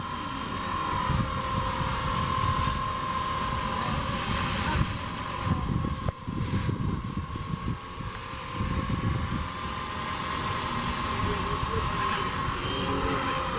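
A radio-controlled helicopter fitted with carbon fiber rotor blades flies nearby, giving a steady loud whirring drone with a constant tonal hum throughout, with slight fluctuations as it manoeuvres.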